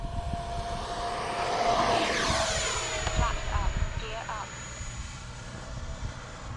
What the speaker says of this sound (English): let that EDF spool up to speed.